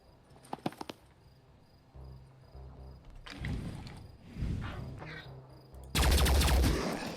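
Gunfire in the Phoenix Point tactical game: a quick cluster of sharp shots, then rising combat noise and a loud final blast at the end, with no talking.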